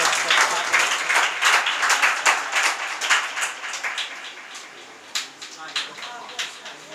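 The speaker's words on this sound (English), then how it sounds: "Please clap for him." An audience at a school Teachers Day celebration claps for a guest speaker, a steady run of many hands that thins into scattered claps toward the end, with a voice speaking over it.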